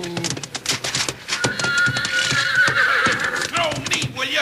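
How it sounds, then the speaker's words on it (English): A spooked horse whinnies loudly and repeatedly while hooves clatter in rapid, uneven clip-clops in an old western drama, with shouting voices mixed in over the commotion. "He's got that horse so spooked up it doesn't know what it's doing."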